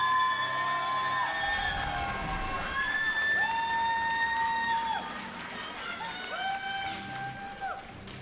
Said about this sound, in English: Piercing shriek fills the air in support of Violet.